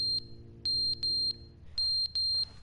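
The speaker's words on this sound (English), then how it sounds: "What is that beeping?" A fire alarm beeps in The Stanley Parable video game, a series of short, high, electronic beeps in irregular pairs and triplets, fairly loud and clear over a faint background hum.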